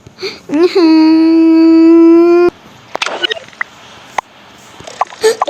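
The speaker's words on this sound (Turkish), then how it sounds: "Çocuklar ağlıyor yemin ederim." Young twins crying at home, a high wavering wail held for about two seconds up close, then broken whimpers and small sobs with household noise between.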